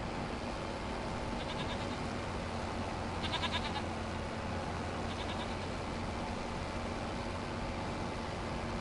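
Goats in a goat pen in the video game Farming Simulator 25 bleat three times, short and faint, spaced a couple of seconds apart beneath a constant loud hiss of ambient noise.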